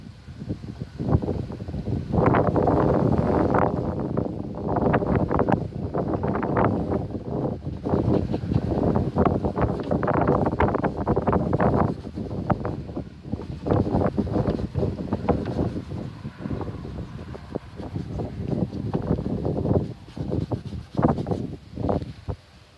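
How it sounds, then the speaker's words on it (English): Gusty wind rushes and buffets the microphone in uneven bursts, rising and falling throughout with no voices. "It is a little bit windy"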